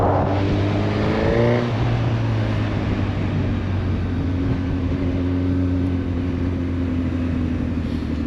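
A Honda CB 1000 Hornet SP motorcycle accelerates hard in second gear, the engine note rising sharply in the first seconds, then settling into a loud sustained high-revving drone as it speeds away, with no voices.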